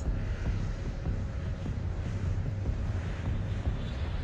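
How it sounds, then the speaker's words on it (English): Airplane flying overhead on an island, a steady broad rumbling drone with wind-like roar that holds at a constant moderate level throughout, no voices. "Wait, what's the plane doing up there?"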